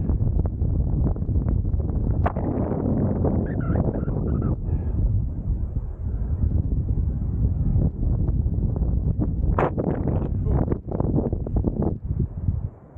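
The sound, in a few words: wind blowing on a coastal cliff top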